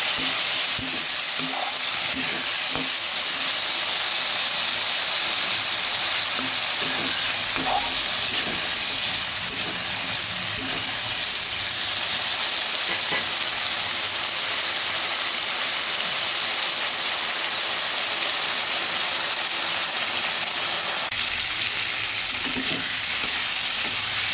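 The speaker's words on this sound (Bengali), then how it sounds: "ভালোভাবে নেড়ে নেড়ে মটরশুঁটিটা আর আলুটা ভেজে নিচ্ছি" Green peas and potatoes fry in a pan while being stirred, a loud, steady, dense sizzle that holds without a break and carries faint scraping knocks of the spoon, close up with no voices.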